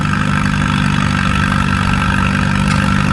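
At a tractor pull event, a tractor engine, an old Emsky, roars loud and steady with a rough, clattering tone, held at high revs throughout.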